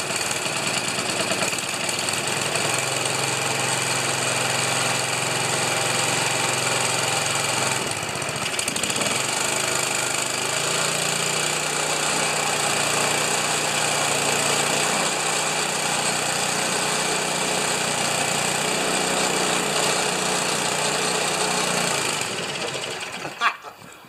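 Cold snow blower engine that sat outside overnight, running loud and steady with a fast, rattling small-engine chatter close by, its pitch shifting partway through before cutting off at the end.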